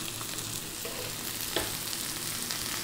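Green peas fry in a hot pan with a continuous close sizzle, joined by a soft stirring scrape and a brief knock of a utensil.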